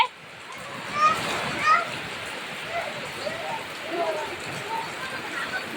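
Steady rain falls on a monsoon day in Bengal, giving a continuous hiss and patter of drops on surfaces. Children's voices and chatter come and go over it.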